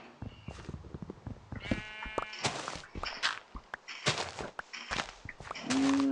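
A goat lets out a wavering bleat, with scattered footsteps and shuffling close by, followed by loud rustling bursts and another short animal cry.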